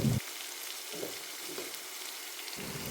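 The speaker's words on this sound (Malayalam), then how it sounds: "ഇനി ഇതിലേക്ക് കറിവേപ്പില ഇട്ട് കൊടുക്കാം കുറച്ച് മഞ്ഞൾപ്പൊടി ഇടുന്നുണ്ട്" Curry leaves and turmeric powder sizzle in hot oil for a South Indian brinjal thoran. A steady, close frying hiss is broken by short crackling bursts as the leaves hit the oil. No one speaks.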